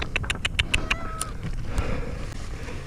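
A rescued cat called to by a man gives faint meows amid outdoor rumble and broadband noise, with brief clicks early on and no talk over the mewing itself.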